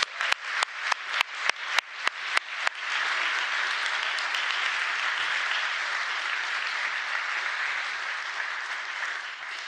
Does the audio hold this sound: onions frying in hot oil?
no